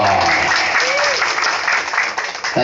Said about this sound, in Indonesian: Tepuk tangan sekali lagi yang mulia dong